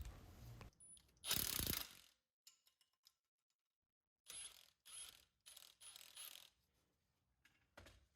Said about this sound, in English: grab that same little bolt and crack these rotors loose